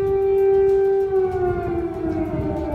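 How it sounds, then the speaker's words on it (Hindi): A loud air raid siren wails in Kyiv with a steady, sustained tone that slowly dips in pitch, filling the whole stretch with no voices. "कीव में एक बार फिर एयर अलर्ट जारी कर दिया गया और सायरन बजने लगे"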